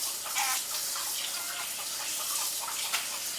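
Raw chicken pieces are rinsed in a big bowl of water, giving a steady, soft splashing and trickling that continues throughout, close by and without speech.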